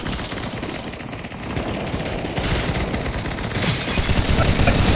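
Dense, continuous gunfire from a Counter-Strike: Global Offensive zombie escape mod match, overlapping bursts and rapid shots that grow louder and busier toward the end, with no voices.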